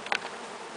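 Honey bees buzz in a brief, soft hum during a hive inspection, steady and close for under a second.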